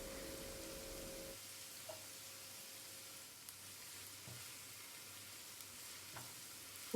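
Four medium onions, finely chopped and salted, fry in oil for a mushroom cutlet. A steady, soft sizzle continues throughout, with a low hum and a few faint clicks from the pan.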